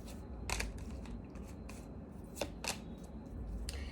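Tarot cards being shuffled for a reading, giving a quiet run of short papery riffling bursts that come in irregular clusters over a soft background hiss.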